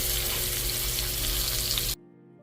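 Country style ribs sear in olive oil in a pot, a loud, steady close sizzle and crackle that cuts off abruptly near the end.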